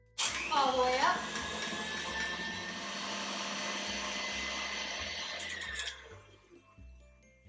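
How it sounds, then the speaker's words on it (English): Stand mixer beating Irish butter frosting at full speed: a loud, steady whir that starts abruptly, holds for several seconds, then winds down, with quiet talk alongside. "Let the stand mixer do the work. All the way up."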